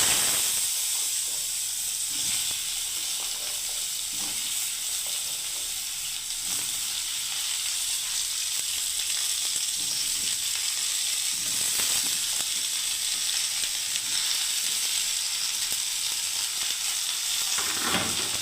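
Mixed vegetables fry in a pan with a loud, continuous, close sizzle and hiss, broken by occasional stirring scrapes and crackles, with no talking.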